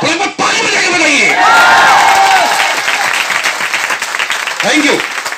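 An audience at a network marketing seminar claps and cheers loudly, with dense applause and raised shouting voices mixed in, swelling and then easing.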